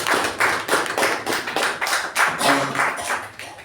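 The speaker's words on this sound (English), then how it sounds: "let us have a huge round of applause for all of us" Members at a club meeting clap together in rhythmic, pulsing bursts, close and moderately loud, keeping up steady applause for a few seconds before it starts to thin.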